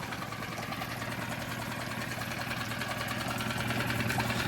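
A brand-new Tohatsu 6HP outboard motor idles steadily, a low continuous mechanical drone with a fine rapid pulse, close and moderately loud with no speech over it.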